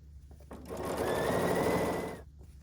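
A sewing machine stitches red and white stripes for a patchwork flag placemat in one quick, close burst of rapid whirring that lasts about a second and a half, with quiet before and after.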